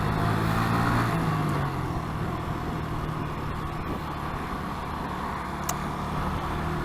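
A Mazda car moving through UK traffic while a motorcycle filters between lanes, its engine rumble steady and close under continuous road and traffic noise, with a brief low drone easing off early on and no talking.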